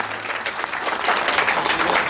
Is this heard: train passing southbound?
no